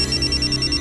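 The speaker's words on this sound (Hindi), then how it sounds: "देखो फोन आ गया।" A steady electronic phone tone repeating rapidly in short pulses, fairly loud and close, over a low background hum, with no voices.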